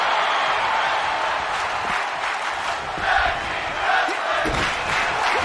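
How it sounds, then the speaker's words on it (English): A wrestling arena crowd in the WWE 2K26 game during a Raw tag team match roars steadily, a dense wall of cheering and chanting with occasional louder swells. "Crowd's loving some tag team action here."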